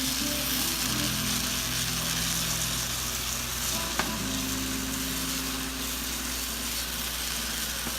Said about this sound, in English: now our tomato sauce and water is boiling for our rice, and we're gonna add our rice